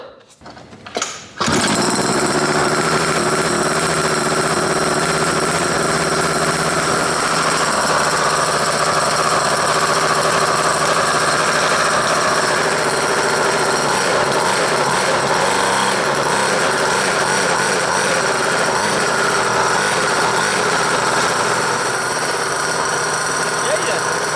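A two-stroke drift kart engine catches on a pull-cord start and settles into a loud, steady high-pitched buzz that runs on close by without pause.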